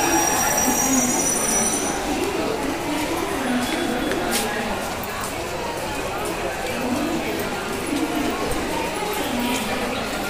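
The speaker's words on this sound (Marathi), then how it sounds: "समोर ट्रेन आलेली 1 नंबर" A train pulls into platform 1 of a station with high metallic wheel squeals over a loud, rolling rumble of railcars, steady and close throughout.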